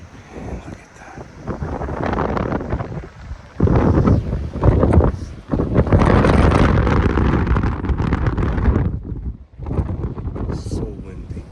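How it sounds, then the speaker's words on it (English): Strong wind buffets the microphone on an Atlantic Ocean beach, loud roaring gusts that surge and drop, with a brief lull near the end. "So windy."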